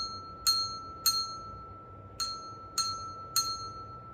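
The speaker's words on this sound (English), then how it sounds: "When we hear the bell ring, it's time for story time." A small bell rings five times to signal story time, bright clear strikes with a lingering ring, spaced unevenly in a quiet room.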